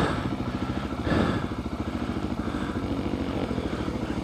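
A dirt bike engine revving and chugging as it rides through sand in New Mexico, a steady close pulsing drone with a brief surge in throttle early on.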